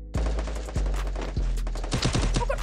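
Gunfire in the battle game Free Fire rings out as sharp, close shots, first three spaced single cracks and then a rapid cluster of bursts toward the end, loud against a quiet background.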